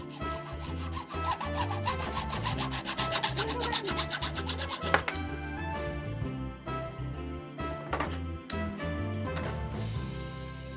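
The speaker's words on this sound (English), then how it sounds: "my husband cut it off with a metal cutting saw blade" A metal-cutting saw blade cuts through the threaded metal part on top of a lamp. Steady, rhythmic rasping strokes run close up for about ten seconds, with a brief break midway.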